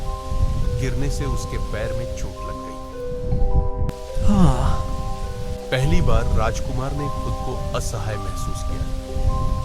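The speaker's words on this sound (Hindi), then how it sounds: "बारिश लगातार हो रही थी।" Steady rain falling in a forest with faint rumbles of thunder, heard throughout beneath a voice narrating a story in Hindi.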